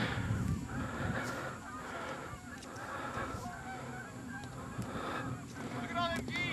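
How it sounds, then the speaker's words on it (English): A large flock of geese honks continuously overhead during a winter hunt, many overlapping calls rising and falling at moderate distance, with a few people talking quietly underneath. "Look at all them geese."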